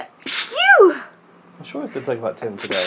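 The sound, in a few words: person sneezing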